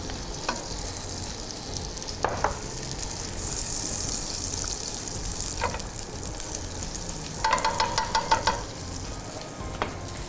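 A tablespoon of butter sizzles in a hot pan for chicken tikka cutlets, a steady hiss broken by a few sharp scraping taps from stirring and a brief clatter near the end.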